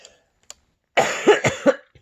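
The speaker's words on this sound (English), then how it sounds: "Sorry, I have to cough." A short burst of three or four harsh coughs, close and fairly loud, after a brief quiet moment with a faint click.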